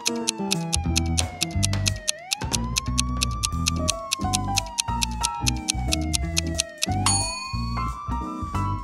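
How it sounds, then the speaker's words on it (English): A wailing police siren sweeps up and down, close and loud, while sharp metallic dings strike in a rapid steady rhythm underneath. "they heard a police car siren"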